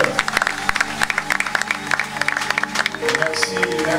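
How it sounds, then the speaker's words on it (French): A church congregation at a Pentecost jubilee service cheers and applauds the pastor as he rises, with sharp close claps over crowd noise and voices. "qui s'élève sous les acclamations du peuple des dieux"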